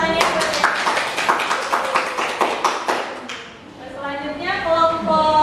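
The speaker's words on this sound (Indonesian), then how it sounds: "Tolong tepuk tangannya." A classroom of students claps hands after a group presentation in a teaching session, a few seconds of scattered, uneven claps followed by talking.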